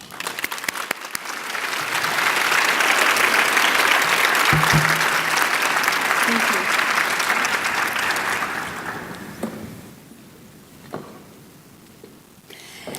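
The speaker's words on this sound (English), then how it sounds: "Please join me in one more round of applause." An audience at a workforce and economic development leadership event gives a round of applause, with dense clapping building and holding for several seconds before thinning to scattered claps and quiet room tone.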